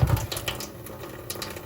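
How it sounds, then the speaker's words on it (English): Water runs from a sink tap while a 20-year-old doll's hair is rinsed, a close splashing stream with a few clinks and a louder thump at the start. "I'm just kind of rinsing her hair to get it kind of wet so that it submerges more easily"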